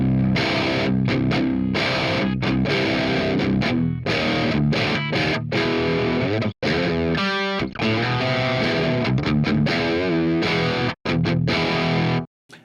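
Electric guitar through a Marshall JCM2000 amp with every knob at noon and Fishman pickups on the classic gain setting: a loud, saturated riff of chugging chords and short pauses, with one sustained note ringing midway.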